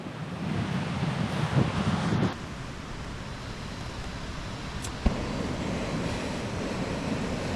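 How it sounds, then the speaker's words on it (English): Strong gusting storm wind with drizzle roars steadily against the microphone at a wild camp, with a heavier buffeting burst early on and a brief sharp knock midway. "It's storm, super windy outside, and it's drizzling."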